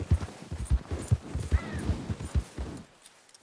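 Horse hooves clip-clop at a steady walking rhythm in Red Dead Redemption 2, fairly close and moderately loud, the beats fading out near the end.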